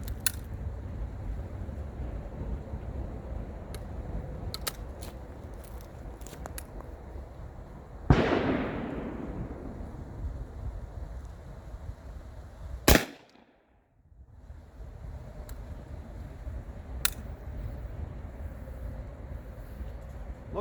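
Two loud gunshots from a firearm loaded with cast, Alox-lubed bullets without powder coating crack out at an outdoor shooting range, each report sharp and close with a decaying tail, surrounded by faint ambient range noise.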